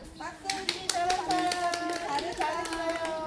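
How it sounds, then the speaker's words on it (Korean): Kindergarten children and teachers clap together at a harvest-experience event, a short burst of hand claps mixed with children's voices and music-like tones nearby. "일동 박수"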